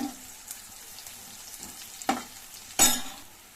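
Onions and curry leaves fry in a pan for a Telugu tomato curry, a faint steady sizzle broken by a few louder stirring scrapes near the end.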